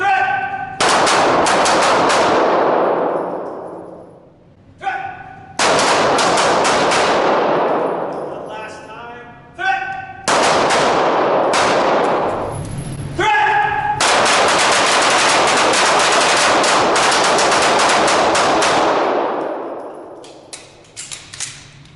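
Handgun shooting drill producing several very loud, sharp shots spaced a few seconds apart, each followed by a long ringing, reverberant tail, with short gaps of quiet between them.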